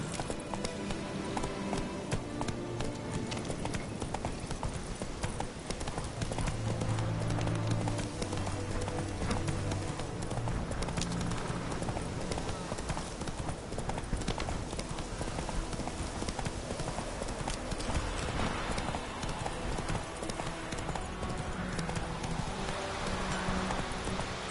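Roach, a horse in The Witcher video game, gallops steadily with dense, rapid hoofbeats over a continuous bed of game music and ambient sound, staying loud and close throughout.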